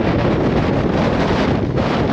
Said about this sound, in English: Now that's a gust.